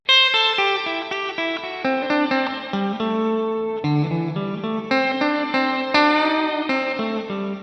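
Electric guitar notes and chords ring out through a JHS Octave Reverb pedal's shimmering octave-up setting, giving a bright, organ-like tone that sustains throughout.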